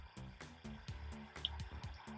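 Water dripping from a drip irrigation emitter onto lettuces in a terrace garden, a run of faint, close, evenly spaced drips and small splashes alone in a quiet setting.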